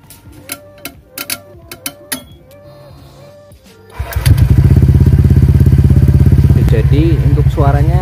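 Honda Vario 125 scooter (2023) with an SKR racing exhaust starts up after a few clinks and thuds, then idles loud and close with a steady rumble, a brief rev rising near the end.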